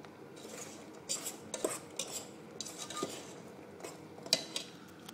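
Metal fork scrapes and clinks against a pot while burnt almonds are stirred in crystallising sugar, giving irregular close-up clatter and scraping strokes without any talking.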